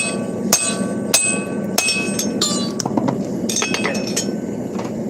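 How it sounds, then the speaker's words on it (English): Hammer blows driving a hammer eye punch into a forged hammerhead, a series of sharp ringing metallic strikes roughly every half second to second, loud and close over a steady forge hum. "I'm just taking this hammer eye punch, and I'm trying to make a hole."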